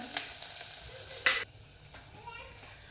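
Cumin, mustard seeds, garlic and coconut frying for a tempering in a pan, a soft close sizzle with light stirring and one brief louder crackle partway through, faint background voices.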